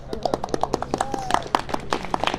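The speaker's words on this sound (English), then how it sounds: "An applause for Vinda." An audience at a Hare Krishna gathering claps for Vinda, a quick patter of individual hand claps close by, fairly sparse and uneven over a low background hum.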